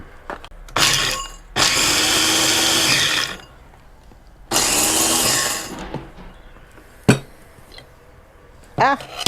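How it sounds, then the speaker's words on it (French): Neighbours' lawn mowers drone in long loud bursts of two to three seconds, starting and stopping, with sharp knocks and short clatters in between, in a garden setting on a weekend. "il y a un petit peu de bruit dans le coin, hein, parce que le week-end, tout le monde travaille. Tout le monde tond l'herbe."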